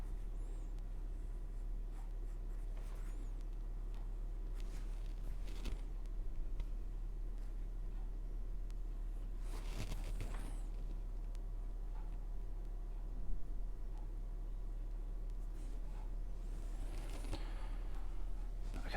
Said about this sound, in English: I'm using a mechanical pencil to draw this time,